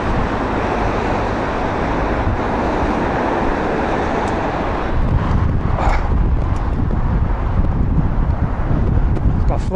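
Steady loud wind roaring and buffeting against the microphone throughout, with a faint rumble of distant traffic underneath.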